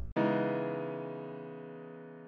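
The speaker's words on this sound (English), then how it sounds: "So a minor 9th is just like a triad," A single minor ninth chord struck on keys, rich and layered, ringing out and slowly decaying after a brief silence at the start.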